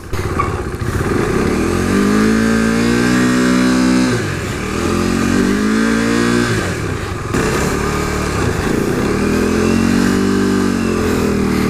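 A modded 2015 KTM RC 390 motorcycle engine drones loudly while riding, holding steady revs with a couple of brief dips and rises as the throttle shifts.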